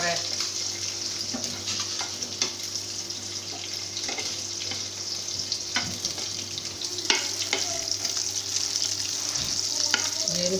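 Boiled eggs sizzle and crackle steadily in hot oil with bay leaf and whole spices, a constant close frying hiss with occasional stirring clinks, no talk over it.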